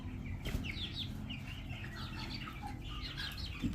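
Meat chickens clucking and chirping in a busy overlapping chorus of short calls, fairly faint over a low background rumble, with a couple of soft knocks and no talk.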